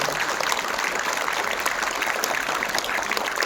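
Steady applause from an audience at a school event welcoming a guest, a dense even patter of many hands clapping throughout with no voices above it.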